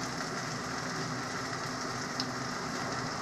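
Spices hiss and sizzle in a hot pan for a cumin and coriander powder dish of ridge gourd with chana dal, a steady, soft, even frying noise with no talking.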